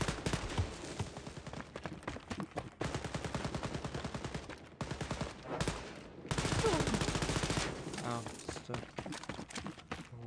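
Rapid bursts of automatic gunfire rattle almost continuously in Wolfenstein: Youngblood, loud and close, broken by brief pauses, with voices talking over the shooting.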